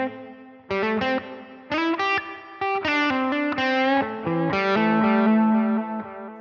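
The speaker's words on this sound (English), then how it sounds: "if I hit those notes louder, you'll notice there I hit a threshold where the delayed repeat started coming in" Electric guitar notes played with a threshold-triggered delay and reverb, a run of distinct plucked tones, some soft and others picked harder so faint repeats trail behind them, alone and close.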